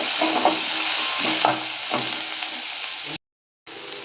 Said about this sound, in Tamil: இது வந்து நல்லா ப்ரௌன் கலரில் வர மாதிரி நம்ம நல்லா வணக்கிக்கணும்